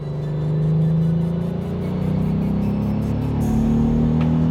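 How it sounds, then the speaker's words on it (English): VW Up GTI accelerating, its sound actuator piping a steady, droning engine hum into the cabin that climbs in pitch over several seconds, loud and continuous with no voices. "this is what they call a sound actuator, so it's sort of fake noise being pumped in"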